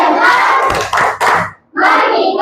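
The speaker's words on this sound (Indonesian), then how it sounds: "Tepuk fokus." An elementary school class claps the 'tepuk fokus' rhythm together, a loud, dense patter of many small hands in quick groups, broken by a brief pause before a final burst.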